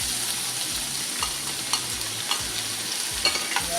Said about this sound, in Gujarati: આ બધું બ્રાઉન કલર થાય છે સુધી સાતળવાનું છે